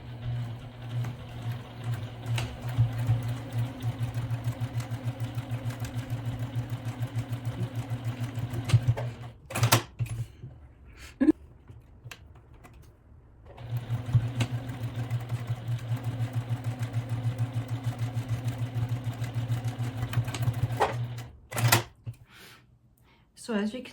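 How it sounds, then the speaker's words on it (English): Sewing machine stitching fabric for a bag, running in two long steady bursts with a pause between them, close and fairly loud, with brief handling clicks and rustles. "I'm here at the sewing machine and I'm gonna start to sew."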